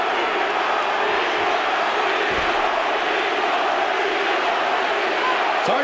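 UFC arena crowd screaming during a Vitor versus Tito fight, a continuous, loud wash of mixed yelling and roaring with no breaks.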